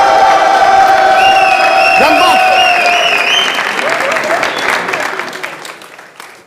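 A crowd at a live music show cheers, whoops and applauds loudly, with shouts and whistles over steady clapping that gradually fades toward the end; a voice speaks briefly over the noise.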